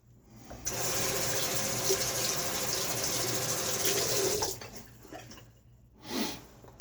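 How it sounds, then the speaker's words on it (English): Cold water runs steadily from a tap in a wintertime shaving setting, a broad continuous rush lasting several seconds before stopping, followed by a brief splash. "Man, water is cold. It is winter time. This water is cold."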